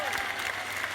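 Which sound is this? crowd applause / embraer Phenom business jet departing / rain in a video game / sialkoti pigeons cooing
crowd applause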